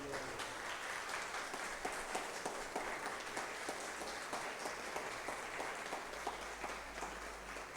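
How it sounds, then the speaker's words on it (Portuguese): Church congregation applauding during a Portuguese-language sermon, a long, even wash of many hands clapping at moderate distance, with distinct sharper claps standing out. "Você pode aplaudir o Senhor Jesus?"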